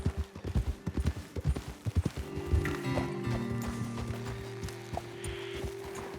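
Horse hooves clip-clop in Red Dead Redemption 2 while riding, a brisk run of rhythmic hoofbeats that slows and stops, followed by a low sustained tone and a few soft thuds.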